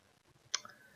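A single sharp computer mouse click while working in Blender software, fairly close and alone with faint room tone, no talking.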